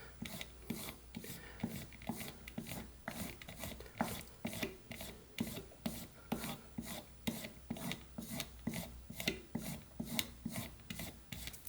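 A whittling knife blade is stroked repeatedly in one direction over a sharpening surface, giving a steady rhythm of raspy scrapes, about two per second, close and clear with no talk.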